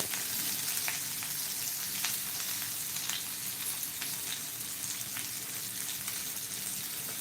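Bangda (mackerel) fish frying in oil over a medium-low flame, a steady dense crackle and sizzle with scattered sharp pops, close and continuous with no voices.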